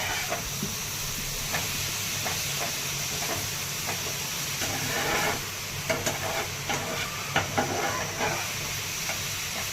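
Grated pumpkin sautés in ghee for a traditional Marathi bhopala halwa, giving a constant close sizzle and hiss punctuated by repeated stirring scrapes, with no one speaking.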